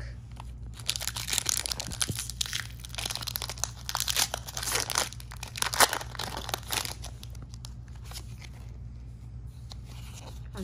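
A Pokémon TCG Sword and Shield booster pack being torn open, with sustained crinkling and ripping of the foil wrapper for several seconds before fading to quieter rustles.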